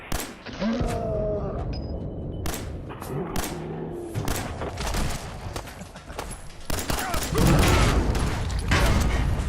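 Explosions and heavy thuds in Fallout 4, several loud booming bursts scattered among gunfire, with a sharp blast near the end, alone without talk.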